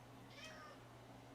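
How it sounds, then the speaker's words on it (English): A pet cat lets out a single quiet, short mew, faint and close, over a low steady hum. "Why can't you make quiet mews like that all the time?"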